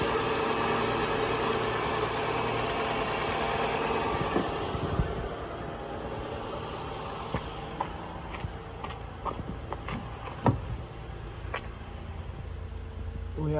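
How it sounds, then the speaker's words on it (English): A Honda Odyssey engine idles steadily up close after an alternator replacement, the new belt turning with a constant whir, joined later by a few sharp clicks and knocks. "It runs. The belt runs."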